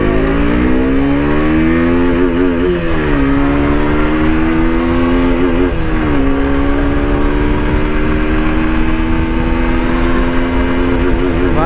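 A KTM RC motorcycle accelerates hard through the gears, its engine note climbing in pitch, dropping briefly at each shift around three and six seconds, then rising again as a loud, continuous close-up roar.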